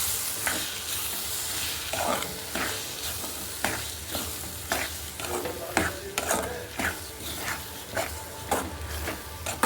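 Beaten eggs with capsicum are stirred in a hot pan. A spatula scrapes in steady, rhythmic strokes over a continuous light sizzle, near and clear, with no voices.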